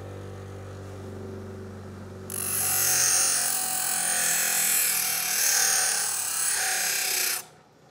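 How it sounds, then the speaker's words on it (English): A No.78 plane iron's bevel is worked on a sharpening stone, making a loud, steady rasping hiss that starts after a quiet hum and runs for about five seconds before stopping. "so now I'm going to go to my sharpening stone"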